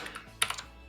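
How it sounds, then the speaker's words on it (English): Keys on a computer keyboard clack a few times close to the mic, with one sharper cluster of strokes near the middle over a low background hum. "I'm just hoping my keyboard isn't too loud now."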